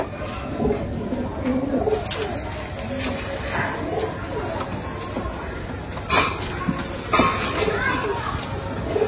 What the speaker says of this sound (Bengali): তো তোমরা পায়রা দেখলেই বুঝতে পারবে যে এলাহাবাদের পায়রা